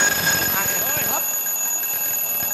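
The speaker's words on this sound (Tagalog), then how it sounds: "Alarm. Alarm. Palakas yung alarm ko." An alarm rings with a steady, high electronic tone that runs through the whole stretch, loud and close, while several people talk over it.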